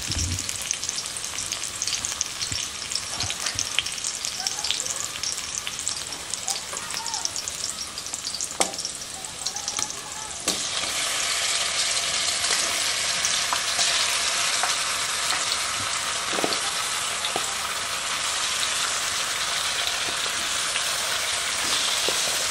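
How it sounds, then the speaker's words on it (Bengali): Marinated chicken tipped into a pan of nearly fried onions sizzles and crackles loudly and steadily, the frying growing denser and brighter partway through, with occasional stirring clicks and no talk. "ম্যারিনেট করা চিকেনটাকে এর মধ্যে ঢেলে দেবো।"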